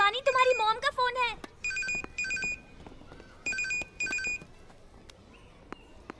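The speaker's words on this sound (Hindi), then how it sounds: "शिवानी, तुम्हारी मॉम का फोन है।" A telephone rings indoors in a home, sounding in two pairs of bright electronic double rings after a short burst of voice, fairly close and clear with quiet room tone between.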